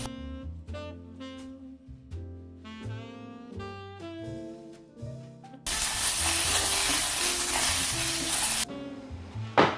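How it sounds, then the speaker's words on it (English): Mushrooms and vegetables sauteing in a pot: after a stretch of background music, a loud, bright sizzle with stirring breaks in and runs steadily for several seconds before cutting off. "while these continue to saute, I am going to add in some mushrooms"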